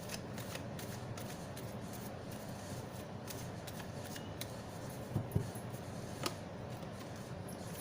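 Tarot cards are shuffled and one is pulled for a reading, giving a soft, steady riffling rustle close to the listener with a few crisp card snaps near the end and no talking.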